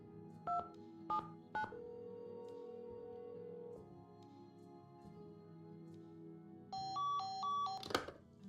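Telephone keypad in a Nancy Drew video game, three short dial tones, then a sustained tone, then a quick run of several more key presses close up and clear.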